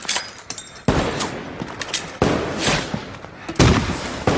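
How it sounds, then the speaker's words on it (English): Sniper gunfire in a war film combat scene, several sharp loud cracks with echoing tails, spaced irregularly across the stretch with dense battle noise between shots. "being pinned down by sniper fire on approach of high value target"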